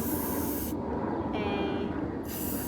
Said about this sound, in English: taking my spray paint here and creating